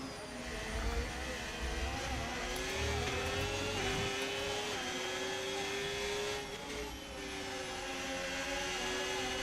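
Formula 1 cars race in the F1 25 game, their engines a continuous high-pitched whine with rising and falling pitch as the cars pass and shift, steady and fairly loud throughout.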